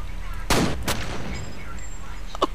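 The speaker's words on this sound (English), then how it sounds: "I shot him first, didn't I?" Gunfire in the first-person shooter F.E.A.R., two sharp shots about half a second apart over steady game background ambience, with a quieter pop near the end.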